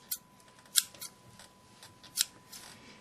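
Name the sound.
scissors snipping at a barber's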